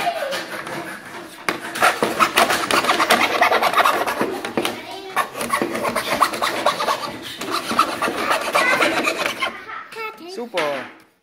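A fretsaw cuts through wood in rapid, continuous rasping strokes, loud and close for about ten seconds before stopping, with some voices briefly at the end.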